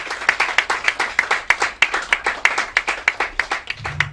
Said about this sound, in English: So just give yourself a round of applause for being a part of it.